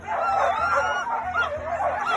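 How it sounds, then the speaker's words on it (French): Pyrenean dogs bark and yelp at a mountain race start, a busy overlapping chorus of several animals heard at a moderate distance over crowd noise. "ce sont des chiens pyrénéens"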